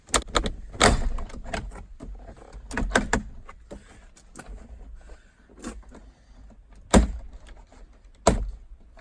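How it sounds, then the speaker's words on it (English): A series of sharp plastic pops and snaps, spaced irregularly with quiet gaps, as door panel trim clips release close by on a 2018 Ford F-150. "At that point, the door panel will unclip."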